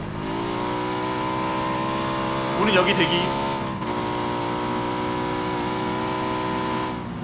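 Motorcycle engine in the battle royale video game PUBG, a steady droning hum with a brief louder surge midway, running beneath players chatting over voice.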